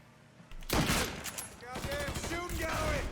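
Gunfire bursts in the Mafia III video game, a loud volley erupting after a short lead-in and continuing as rapid rattling shots under shouted voices.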